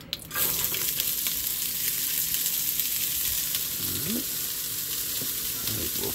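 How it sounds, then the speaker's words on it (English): Vegetables for fried rice sizzle steadily in a hot pan, a dense continuous frying hiss with faint clinks, heard up close with no talking. "we got the pan hot. There we go. Alright. I'm going to take the vegetables first. Dump them in there."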